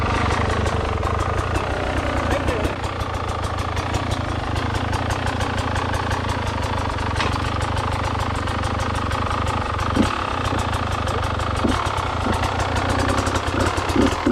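Enduro dirt bike engine idling and revving steadily at close range with a constant rumble, during a hard enduro rock face climb.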